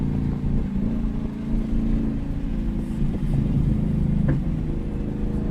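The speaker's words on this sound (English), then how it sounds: "It does have like a good tone just cruising at like that little bit of throttle input you gave it just going past the house." A 2024 Mustang GT S650 with an X-pipe and muffler delete passes by at light throttle, giving a steady, deep exhaust drone that holds loud throughout with a brief sharper blip near the end.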